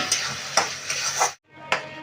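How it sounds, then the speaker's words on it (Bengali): A spatula stirs and scrapes through fried potatoes in a pan, with steady sizzling and a few distinct scraping strokes, briefly pausing before one more stir. "ভালো করে নেড়ে চেড়ে নেবো"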